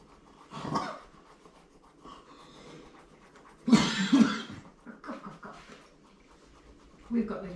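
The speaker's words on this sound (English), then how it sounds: "We've got little coughs as well" Small, light coughs come in a few separate bursts at close range over a quiet indoor background, mixed with panting breaths.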